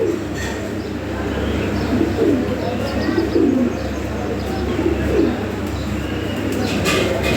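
Lahori pigeons, sold as original European Lahore pigeons, cooing in a loft: several soft, rolling coos in short bursts at intervals over a constant low hum, with occasional faint chirps and a voice murmuring in the background.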